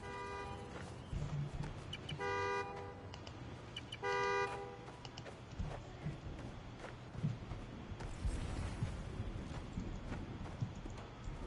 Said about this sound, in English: The more annoying the horn gets, the closer I am.